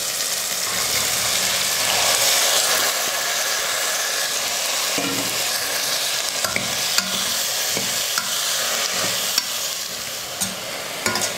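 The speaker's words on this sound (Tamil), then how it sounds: "தண்டு போட்டதுக்கப்புறம் கொஞ்ச நேரம் நல்லா வதக்கிக்கிட்டேன்." Amaranth stems sautéing in a pan give a steady, loud sizzle and crackle throughout, with occasional scrapes and clinks of stirring, no voices.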